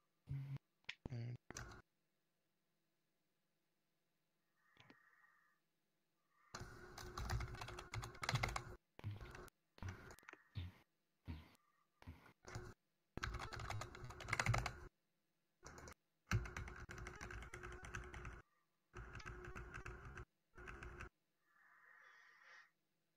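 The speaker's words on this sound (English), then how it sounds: "You're so quiet, aside from when Lucian's typing" Close computer keyboard typing comes in rapid bursts separated by silent pauses, with a little nearby breathing between the runs of keystrokes.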